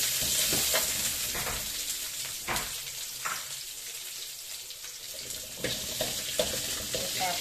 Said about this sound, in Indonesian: Kita goreng kacangnya dulu.